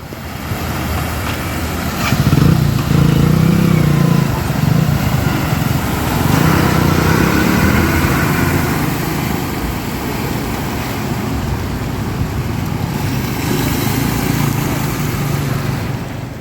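A motorbike runs along a rain-soaked, waterlogged road in Nilambur during heavy rain, its steady engine drone blended with continuous splashing and rainfall hiss, loud and unbroken throughout with no voices.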